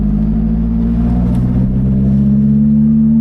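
A rally car engine warms up on a quiet street, holding a loud, steady, close-up rumble with a slight rise in revs.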